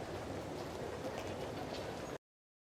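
Steady train rumble with a rattling rail texture inside a carriage on a ride to Shinjuku in the game Lost Judgment, continuous and even for about two seconds before cutting off.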